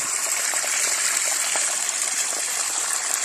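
Water gushing steadily from a spring source along the Appalachian Trail, a continuous close, loud rushing splash with no pauses and no other sounds.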